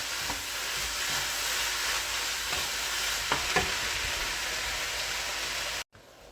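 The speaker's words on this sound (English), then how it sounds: "Now you're going to want to saute this up for about 3 to 4 minutes." Chopped kimchi sautés in a hot pan for fried rice, giving a steady, close hiss of sizzling with a few soft stirring scrapes, then the sound cuts off abruptly at the end.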